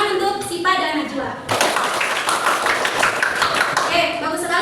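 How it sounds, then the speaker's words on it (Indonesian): Pupils in a classroom break into lively clapping for two classmates, a dense burst of many hands that starts after a teacher's brief spoken words and carries on steadily to the end. "Tepuk tangan untuk Sipa dan Najwa."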